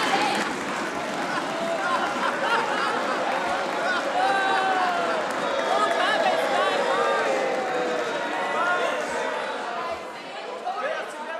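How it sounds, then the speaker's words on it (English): Members on the Tory benches in the Scottish Parliament at Holyrood applaud in a sustained, dense clatter of clapping mixed with crowd murmur and voices, steady throughout before easing near the end. "Richard Leonard beaming at all of the applause he's getting from his friends on the Tory benches."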